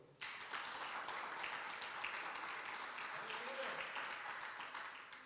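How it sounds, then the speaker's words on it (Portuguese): Congregation applause at a Portuguese-language church service, a sudden burst of many hands clapping that holds steady and full for several seconds before easing slightly. "Vamos aplaudir o Senhor?"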